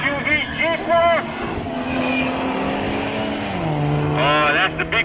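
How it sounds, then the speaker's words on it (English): A big BMW SUV races down a drag strip, its engine a loud, steady roar whose pitch climbs and then drops as it shifts, while an announcer talks excitedly over it. "Oh, that's the big BMW SUV, Jeepers."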